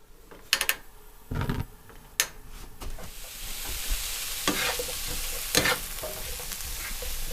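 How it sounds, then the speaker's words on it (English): A frying pan sizzles steadily while mushrooms brown, with a few sharp scraping and stirring knocks against the pan, close by and fairly loud, in an off-grid cabin. "we are browning the mushrooms for now in this pan here"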